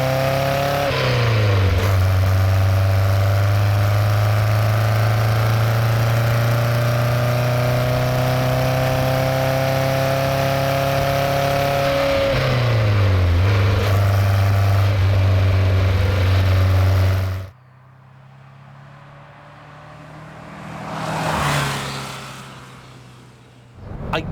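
A 1969 Porsche 912 with a 90-horsepower engine droning steadily while driving, with pitch rising through two gear changes before cutting out; a faint rushing passage follows. No talking.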